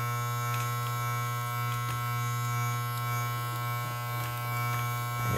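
A cheap electric hair clipper cutting a mid fade buzzes steadily and close by, its motor hum staying constant with faint clicks as the blade passes through hair.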